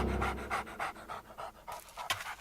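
A dog pants quickly and rhythmically as a sound effect in a narrated children's fable of the town mouse and the country mouse, with steady breathy bursts close up and no talking.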